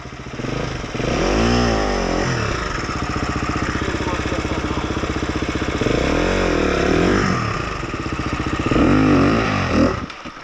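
An off-road dirt bike engine drones loud and close in first gear on a trail in Belazaima, Portugal, with a few surges of revving rising and falling.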